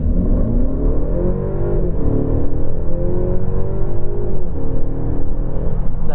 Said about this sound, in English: That is a very sporty sound for a 2 litre.